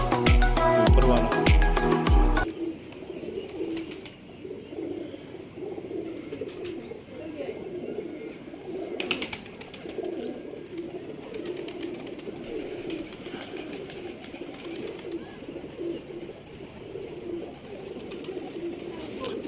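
Pigeons coo outdoors in soft, low, repeated murmurs that carry on throughout, after a loud burst of music-like sound at the start.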